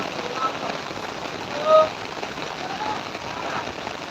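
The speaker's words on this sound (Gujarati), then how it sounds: "ફૂલ વરસાદ ચાલુ જોઈ શકો છો" Heavy rain pours down in a dense, constant hiss. A brief faint tone and low voices are lost beneath the downpour.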